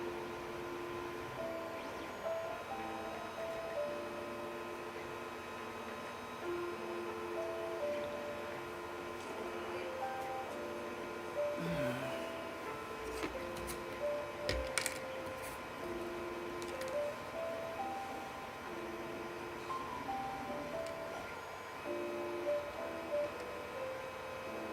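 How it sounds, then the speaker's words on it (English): A 3D printer makes an odd noise, with stepper motors whining in shifting tonal steps over a faint background hum. A few sharper clicks and knocks break in around the middle, all quiet and with no speech. "my 3D printer's making a weird noise"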